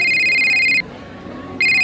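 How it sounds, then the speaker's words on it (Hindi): A telephone rings in two loud electronic bursts separated by a short pause, clear and close with no other sound over it. "ओहो, अब कौन फोन कर रहा है?"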